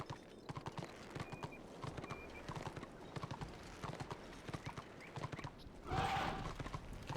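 Steady clip-clop of horse hooves from a mount in the online fantasy game Warhammer Online, a brisk, even rhythm of hoofbeats carrying on throughout, with a short burst of louder noise near the end.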